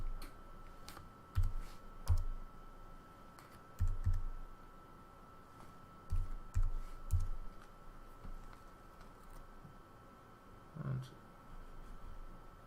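Keys tapped on a computer keyboard while a player's USTA number is entered for tournament registration, coming in short clustered bursts of clicks with pauses between, close and fairly quiet.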